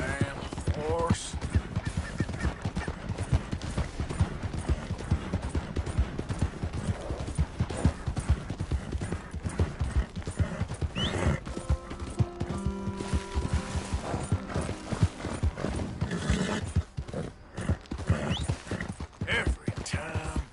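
Steady clip-clop of horse hooves in Red Dead Redemption 2, rhythmic and close throughout, with occasional whinnies, faint bird calls and a man grumbling over the hoofbeats.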